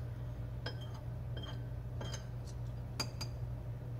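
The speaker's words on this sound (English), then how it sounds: "we're gonna use that teaspoon to stir it up" A teaspoon stirs ingredients in a glass, its metal tip clinking against the sides in a few sharp, separate taps over a steady low hum, close by and moderately loud.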